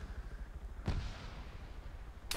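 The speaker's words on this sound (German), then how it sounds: "Castle explodiert auch gerade ein Heli" A helicopter explodes in the Arma 3 video game, a sharp booming crack followed by a rumbling tail, distant and fairly faint, with a second sharp crack shortly after.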